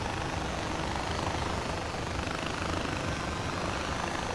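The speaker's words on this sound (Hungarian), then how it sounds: "Mi, hogy helikopterre jöttünk" A helicopter in the video game Far Cry 4 drones with a steady, dense rotor and engine roar, loud and continuous with no gaps.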